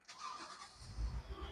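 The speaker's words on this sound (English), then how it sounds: "now starting the car is an interesting exercise because you can either do this the old-fashioned way with the key" The 3.0 supercharged engine of an Audi Q7 cranks and catches with a brief starter whine, then a low engine rumble swells near the end, heard close and quiet.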